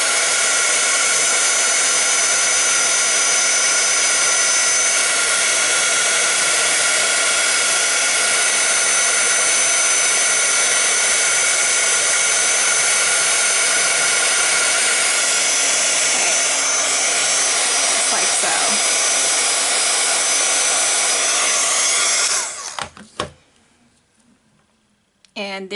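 A heat tool heats embossing powder on a die cut, blowing with a loud, steady, close whine for over twenty seconds before cutting off abruptly.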